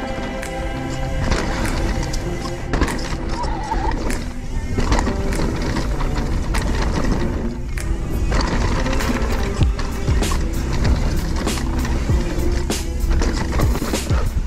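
A Husqvarna Mountain Cross MC4 electric mountain bike rolls along a jump trail, giving steady loud rumbling tire and wind noise with rattles and a few sharp knocks from bumps.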